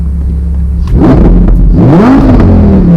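A steady engine idle rumble, then a loud exhaust rev that climbs and eases back down, heard up close, from a Lamborghini Huracán Performante Spyder or McLaren 570S Spyder in Strada mode.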